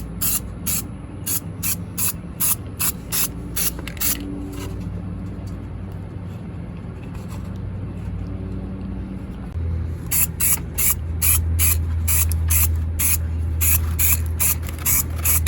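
Spray paint goes onto a truck as a light tack coat in a rapid series of short close hissing bursts. A low hum runs beneath, and the bursts pause midway before resuming.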